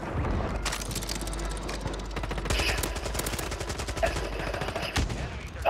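Rapid automatic AK rifle fire rattles through a video game shootout in long, dense bursts of sharp, close shots that barely pause.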